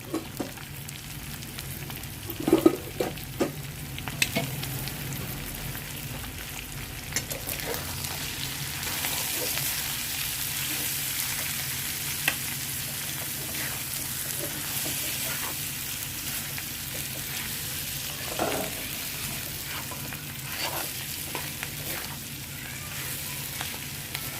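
Chicken sizzles steadily in a pan with masala powder, coriander and mint, a constant frying hiss throughout with occasional louder spits and stirring scrapes, no talking.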